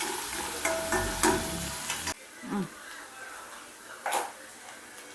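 Onions frying in a pan for egg curry, with a crackling sizzle and stirring scrapes. The sound is loud at first, then abruptly becomes quieter, leaving a faint hiss broken by a few short stirring clatters.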